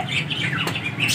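Ducks squawking as they are let out of their enclosure, a run of loud, close, nasal quacking calls that overlap with no pause.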